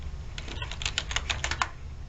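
Quick, light keystrokes on a computer keyboard as a last name is typed into a student lookup field, about a dozen crisp clicks in a fast burst, close and clear over a low hum.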